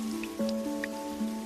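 Rainwater drips through the roof of an old woman's hut in a heavy downpour, a storytelling sound effect: a few light, sparse drips over soft sustained tonal music.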